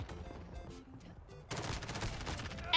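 Gunfire from an MP7 submachine gun in the Modern Warfare video game comes in scattered shots, then a louder sustained burst in the second half over game ambience.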